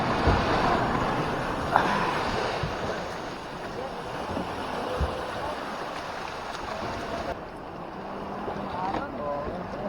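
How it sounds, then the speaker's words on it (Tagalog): Sea waves near Capones Island off Pundaquit, a steady rush and slosh of water around a small fishing boat, with wind and a few faint voices in the background. "Alon."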